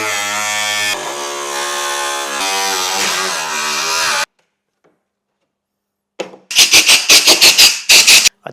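A power tool cutting through a carbon fiber car dash, first a loud, sustained high-pitched whine that shifts in pitch, then after a silent gap a series of harsh buzzing bursts.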